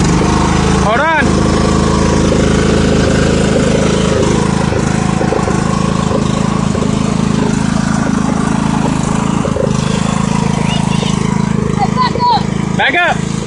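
Small tractor engine running steadily while children drive it, a continuous mid-pitched motor drone with brief louder bursts, heard under people talking.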